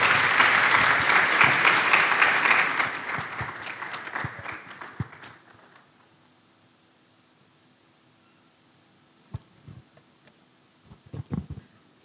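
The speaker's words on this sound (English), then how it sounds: "A round of applause, please." Conference audience applause, loud and dense at first, then fading out over several seconds, followed by near silence with a few scattered knocks and movements.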